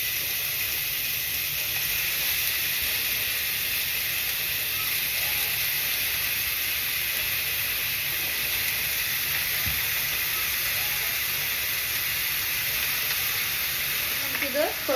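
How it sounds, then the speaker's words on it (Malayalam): Pork frying in oil in a pan, a steady, loud, continuous sizzle and hiss throughout with a few faint clinks near the end. "പോർക്ക് ചട്ടിയിലിട്ട് കൊടുക്കാം."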